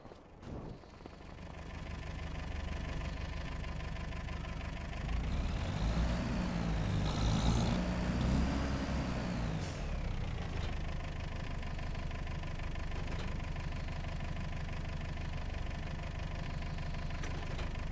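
A heavy vehicle engine in Farming Simulator 25 idles, then revs up louder for several seconds while moving a trailer before settling back to a steady idle, close and continuous with no talk.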